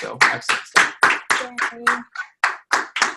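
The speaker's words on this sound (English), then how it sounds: "I think all of you deserve a round of applause for that." Team meeting attendees break into applause, a burst of many hands clapping at a brisk, uneven rhythm for about three seconds while a voice speaks briefly over it.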